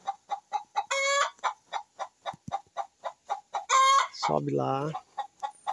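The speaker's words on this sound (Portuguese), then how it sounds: "As galinhazinhas que eu crio. Tem uma que canta que nem galo." Backyard hens cluck in a steady rhythm of short calls close by, and one hen breaks in with two loud rooster-like crows, the second trailing into a long, drawn-out call; a person says a brief phrase.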